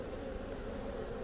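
Honeybees hum around an open beehive during a hive inspection, a steady low drone close by with no voices over it.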